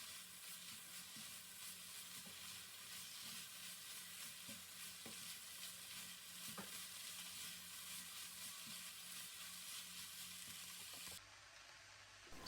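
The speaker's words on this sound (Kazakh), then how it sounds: "Томат пастасын қосамыз. Қара бұрыш. Жақсылап араластырамыз." Minced meat cooked with tomato paste and black pepper is stirred in a pan, a soft continuous sizzle with faint scraping strokes, quiet and close, dropping off near the end.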